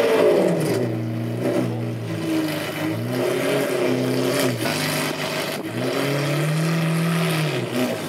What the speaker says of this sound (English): I think they're gonna turn on the Aventador again,